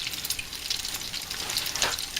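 Potato latkes fry in a pan of hot oil, giving a continuous crackling sizzle with bright spitting pops close to the microphone.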